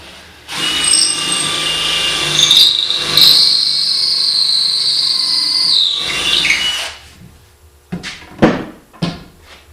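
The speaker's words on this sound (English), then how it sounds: "Now I take my drill and I start a pilot hole." A loud power drill whines steadily for about six seconds boring a pilot hole for bolts, then cuts off, followed by a few sharp knocks and clatters.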